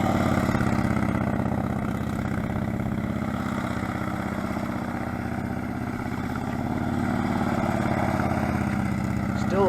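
A motorcycle engine during tight slow-speed riding practice on a hot day, idling and blipping in a steady mid-pitched rumble with small revs, while a voice talks over it.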